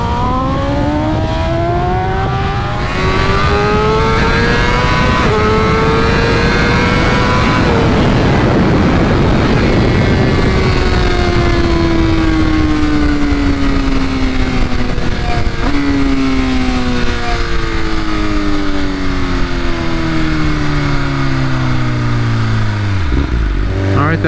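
A 2021 BMW M1000RR motorcycle with a flashed ECU and quick shifter makes acceleration runs, its engine loud and close as it revs hard and climbs through several gears with quick shifts, then falls away at the end.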